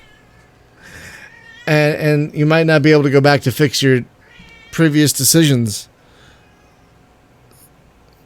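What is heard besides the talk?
pet cat meowing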